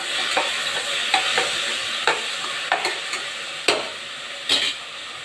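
Onions sautéing in a pan with tomato, coriander leaves and salt added, stirred with a spoon. A steady sizzle runs throughout, with sharp scraping strokes against the pan roughly every second, close and alone with no talk.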